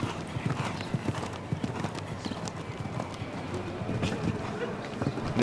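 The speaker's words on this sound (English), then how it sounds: "big gelding, big ground covering stride, but not really going to the accelerator all that much" Hooves of a big gelding striding out in a show jumping round in the international ring at Spruce Meadows, rhythmic clip-clop footfalls steady through the clip under crowd and arena noise with a commentator talking.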